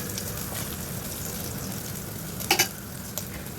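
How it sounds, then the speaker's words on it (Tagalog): Ginger sautés in a pan for lamb soup with a steady, even sizzle throughout, broken by a couple of sharp utensil clinks near the end. "igisa nyo ng maigi yung luya"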